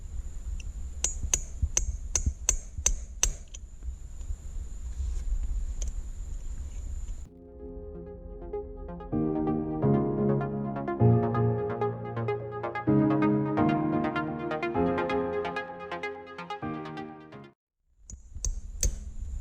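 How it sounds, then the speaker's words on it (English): A quick series of sharp metallic taps as a hammer strikes a punch to drive out a cotter pin on a 2018 Mustang GT, followed by a stretch of tonal, music-like sound. "you're going to need a trusty hammer here, you need to hammer out this little pin."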